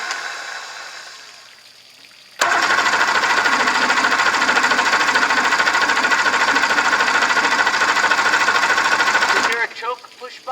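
Close and loud, the outboard motor on a 1984 Grady White Overnighter 20 boat runs with a steady, rapid mechanical chatter for about seven seconds, then cuts out, with voices faintly audible before and after.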